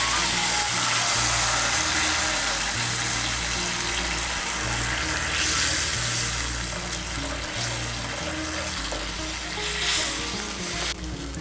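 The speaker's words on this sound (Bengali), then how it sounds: "আমি এর মধ্যে 2 কাপ গরম জল দিচ্ছি" Two cups of hot water go into cooked spice masala for a pabda fish and brinjal curry, producing a loud, continuous rushing sizzle and bubbling that holds for the whole stretch without any talk.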